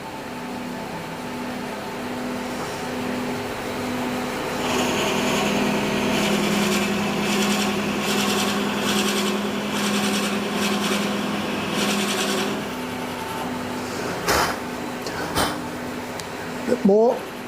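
A stabilised timber handle is cut on a machine, giving a steady whirring drone with a rising rough cutting rasp in the middle as shavings come off, while someone talks throughout.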